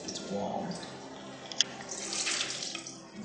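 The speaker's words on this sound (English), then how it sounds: "I'm going to soak this one in this hot water." A towel being soaked in a basin of hot water makes splashing and trickling, with water sloshing and dripping and a brief sharp drip or clink. A voice is faintly heard in the background.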